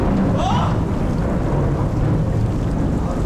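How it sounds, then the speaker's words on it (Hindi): Heavy rain pours steadily outside a cave in a Chhattisgarh forest, a dense continuous roar with deep rumbling thunder underneath, loud and unbroken throughout. "बहुत तेज बादल फट रहा है और अगर इसी तरीके से बारिश होती रही"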